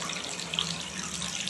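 Tap water, reported dirty and foul-smelling, runs steadily from a faucet into a sink with a constant, moderately loud broadband rush and no talk.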